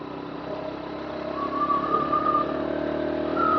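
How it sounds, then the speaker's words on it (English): A Bluroc X-Bongo 125 scooter climbs uphill in third gear, its small engine droning steadily and rising slightly in pitch and loudness as it accelerates. "In third gear, yeah, accelerating nicely."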